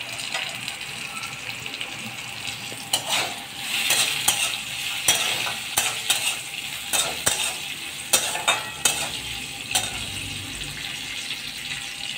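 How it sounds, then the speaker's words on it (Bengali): Cauliflower and potato stir-fry in a pan with a steady sizzle, broken by repeated sharp scrapes and clatters of a spatula stirring at an irregular pace, close and moderately loud. "ওই জন্য একটু ফুলকপি আলু ভাজতে দিয়েছি।"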